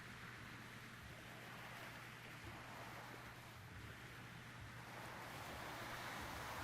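Ocean waves in the video game ChronoClock wash in a soft, continuous surf that stays faint and even throughout, with a low steady hum underneath and no voices.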